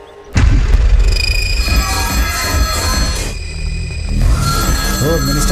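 A telephone rings steadily at close range, its tone repeating under a busy, loud background with some voices.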